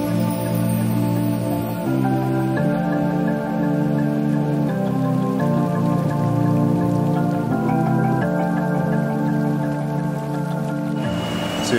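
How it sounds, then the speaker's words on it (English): Cicadas in the Corcovado rainforest of Costa Rica drone continuously, a dense layered buzz that pulses and shifts in steps, steady and fairly loud with no talking. "So you can hear the sound in the background from the cicadas."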